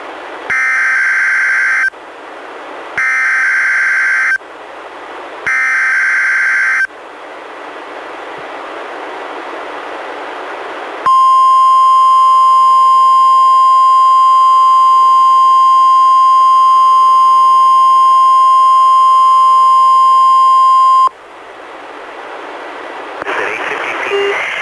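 Three loud repeated two-tone beeps of a NOAA Weather Radio weekly test, followed after a voice passage by a long, steady, loud warning alarm tone lasting about ten seconds, then talk resumes.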